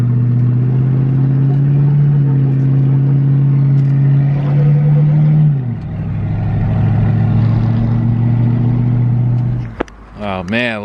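A 1992 Lincoln Town Car, covered in race stickers for a Gambler 500 run, idles with a loud, steady low engine drone that shifts lower partway through, and a voice cuts in at the very end.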